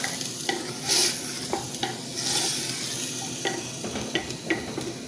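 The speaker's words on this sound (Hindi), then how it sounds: "इसको हमने अच्छे तरीके से जो है वो फ्राई करना है" Garlic-ginger paste and mutton frying in a handi pot, a loud sizzle with scraping stirs and spoon knocks against the pot at irregular intervals, close up and without talk.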